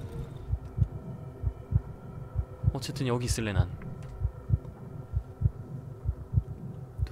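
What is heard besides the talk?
heartbeat in video game Darkwood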